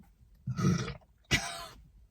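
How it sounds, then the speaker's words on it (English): Two short, throaty belches from a person drinking Dr Pepper, close to the microphone, about a second apart, with no talking around them. "This makes me really belch, by the way."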